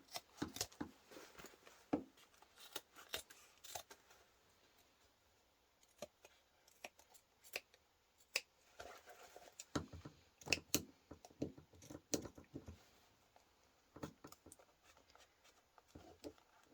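Scissors snip through thick layered fabric while trimming the sides and small corners of a sewn portable Nintendo Switch console case, giving close, irregular crunchy cuts separated by short pauses across the clip.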